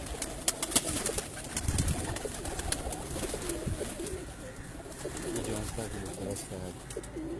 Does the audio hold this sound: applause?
no